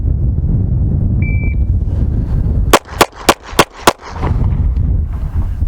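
Five sharp, loud S&W M&P 2.0 pistol shots fired in quick, evenly spaced succession during a timed FBI pistol qualification string, with steady background noise before and after the burst.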